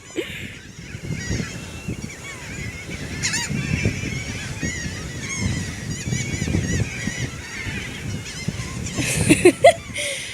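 Geese honk repeatedly at a beach while being fed, a dense, close chorus of overlapping calls that keeps going throughout, with a few louder honks near the end.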